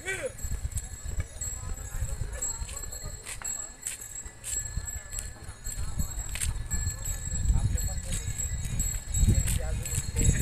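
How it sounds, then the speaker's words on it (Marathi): Bulls walking along a village road in Marathwada during the Bail Pola festival, with scattered hoof clops on the ground close by, under steady outdoor crowd noise and people talking. "तर ते अजून पाठीमागून बैल येऊ लागले"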